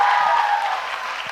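Audience clapping at a quiz event in Jaipur, a steady dense patter of many hands held at an even level throughout the short stretch.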